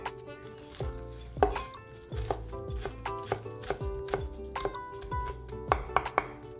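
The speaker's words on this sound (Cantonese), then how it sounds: "We'll take the dried shrimp from the water it was soaking in and dice them into small pieces." A knife dices soaked dried shrimp on a chopping board while making deep-fried ham sui gok dumplings, giving a quick run of crisp, uneven chops that knock close and clear, with no talking.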